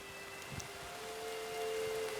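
Rain beginning to fall in Red Dead Redemption 2, a soft, steady hiss of drops over a quiet outdoor ambience with faint tonal hum, growing slightly heavier toward the end.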